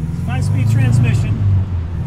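A 1963 Alfa Romeo Giulia with a short-geared 5-speed transmission drives along, its engine a steady low drone heard from inside the car beneath someone talking.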